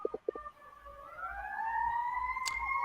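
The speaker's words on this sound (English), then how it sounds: "Someone's got a siren going off there" A siren wails in the distance over someone's open microphone on a live call, starting with a few short knocks and then rising steadily in pitch, with its long tone sustained and growing louder.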